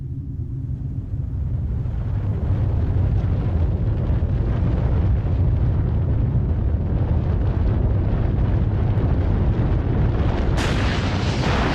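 Underground nuclear bomb test detonated 180 metres below ground, heard as a loud sustained low rumbling roar that continues evenly throughout, with a sudden brighter hissing surge near the end.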